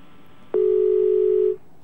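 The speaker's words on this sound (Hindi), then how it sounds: "ये लीजिए, फोन काट दिया उन्होंने।" A telephone line goes dead after a call is hung up: a single steady electronic tone starts abruptly, holds loud and clear for about a second, then cuts off, with faint line hiss around it.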